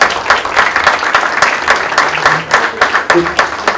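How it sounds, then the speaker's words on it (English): Audience applause at an academic all-stars breakfast, loud and close, with uneven bursts of many hands clapping and a faint murmur of voices underneath. "please give them a well-deserved round of applause"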